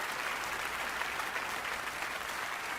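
Steady applause fills the room at the close of a live concert performance, a dense, continuous wash of clapping from an audience heard at moderate distance, with no voices standing out.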